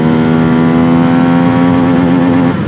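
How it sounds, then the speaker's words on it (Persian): A CF250 motorcycle engine pulls hard during a top speed run, its loud steady drone climbing slightly in pitch for over two seconds before easing off, close and alone. "CF250 تکسیلند هم یه تاپ اسپید بزنیم هم گیری بوکسش رو تست کنیم"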